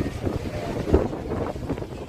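Wind buffets the microphone on a boat trip, a steady low rumble with gusty swells and faint water movement underneath, no voices.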